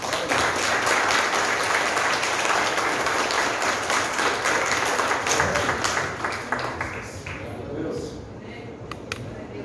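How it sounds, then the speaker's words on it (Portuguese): A church congregation applauds during a service, a dense, sustained wash of clapping that fills the room, with voices mixed in, thinning and fading toward the end. "Quero dar um aplauso para Jesus"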